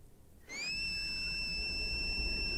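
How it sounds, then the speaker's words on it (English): A cartoon whistle blown to summon a superdog rings out after a brief pause, a bright sustained multi-tone note that rises slightly at its start and then holds steady and loud to the end. "he managed to let out a whistle"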